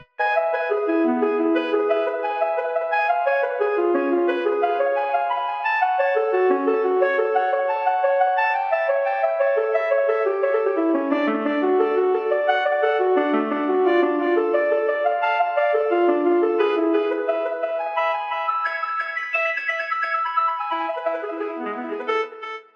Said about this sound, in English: I'll add the arpeggios on the top so you can hear